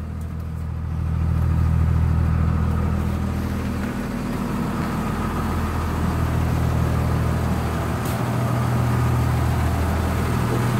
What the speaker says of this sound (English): But the old bus fired up, guys.